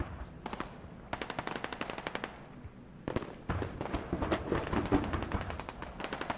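Rapid bursts of AK rifle fire in a competitive video game match, sharp repeated cracks in quick strings separated by short pauses, loud and close with no talking.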